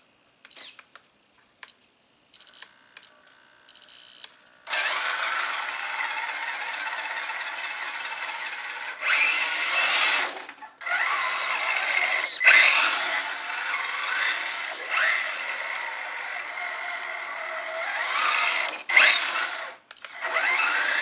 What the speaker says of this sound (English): There's second gear. Here's high gear.